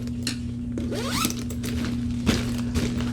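A zipper on a smell-proof sling bag with two zippers is drawn open or closed, a close, crisp ratcheting rasp in short pulls against a steady low hum, with no talk.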